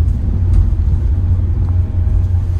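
A manual car's engine rumbles low and steady close by, holding a constant drone with no distinct rev rise or gear-shift break.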